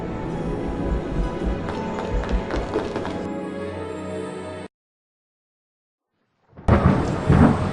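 Thunder rolls through a stormy, foul morning with rain, a loud sustained rumble that cuts to silence for about two seconds before another heavy burst returns.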